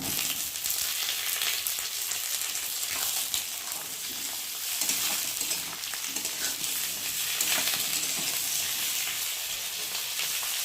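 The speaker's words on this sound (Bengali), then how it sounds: "এখন এই যে আলু আর বেগুনটা দিয়ে আগে প্রথমে ভালো করে ভেজে নেব" Potato and eggplant pieces frying over browned onions in a pan: a dense, steady hiss of sizzling oil with faint stirring movement, close and continuous, with no talking.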